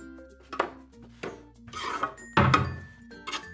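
Atta flour, ghee and sugar are stirred together in a bowl for laddoos, making a run of close, irregular clinks, taps and scrapes of a spoon against the dish, with no talking.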